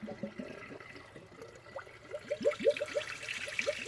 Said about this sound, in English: I can hear it bubbling.